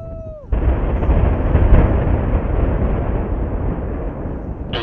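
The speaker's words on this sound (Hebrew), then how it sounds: "פיצוץ תקין" A single heavy explosion from a minefield detonation on the Golan Heights bursts suddenly after a moment of quiet, then rolls into a long, loud rumbling roar that slowly fades.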